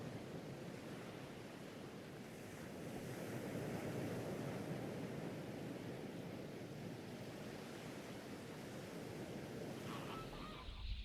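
Waves and wind on a windy coast in Namibia form a steady, broad roar of surf and gusting air that continues throughout without voices.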